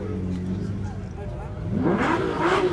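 A Lamborghini at a car show drive-in convoy revs its engine, the pitch sweeping upward in the last second over a steady idle, with people talking nearby.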